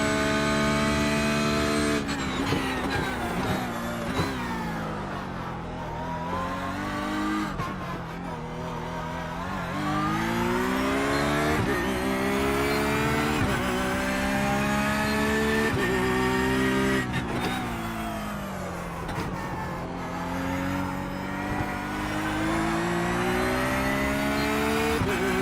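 A Porsche race car engine in a NASCAR racing video game screams loud and close throughout, its pitch climbing through gears and dipping on downshifts, with occasional tire squeal and no talking.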